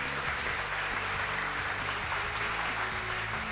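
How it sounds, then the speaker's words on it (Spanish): Audience applause for the qualifiers of a youth quiz competition, a steady wash of clapping from a studio crowd that continues evenly throughout without any talk. "Un aplauso para ellos."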